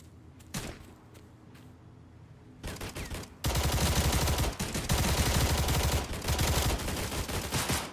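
Video game gunfire, first as a few isolated sharp shots, then as a loud sustained burst of rapid fire that fills the last several seconds, with no talk over it.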